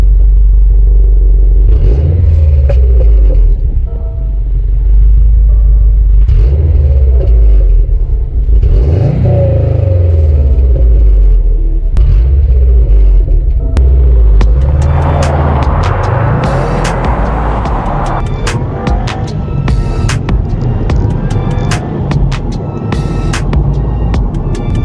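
A 2010 Subaru WRX drives along the road, its engine rumbling steadily close by, then revving and accelerating in repeated surges, with the pitch rising and falling through the gear changes.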